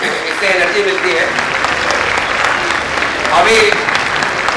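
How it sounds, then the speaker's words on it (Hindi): Loud, dense audience applause fills a hall during an Independence Day celebration at LLRM Meerut, steady throughout with a few voices mixed into the clapping. "जोरदार तालियां बजाते रहिए, इससे एनर्जी मिलती है।"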